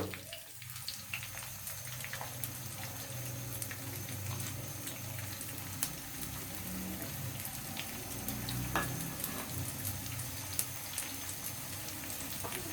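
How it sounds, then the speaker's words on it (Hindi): Large chopped onions browning in a pan give a steady, soft sizzle and bubbling hiss that holds at an even level throughout. "अब इसमें हम ये प्याज जो है वो ब्राउन करेंगे।"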